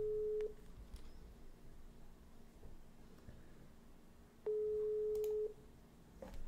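Unanswered telephone call: two steady ringback tones from a handset, one brief and one about a second long, separated by a quiet gap, with faint room noise and no talk.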